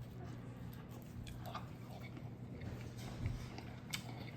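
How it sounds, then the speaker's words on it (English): Someone bites into and chews Church's Texas fried chicken meat, making soft, wet, squishy mouth sounds close to the microphone over a low steady hum, with no talking. "let's eat a couple of bites of the actual meat of the chicken."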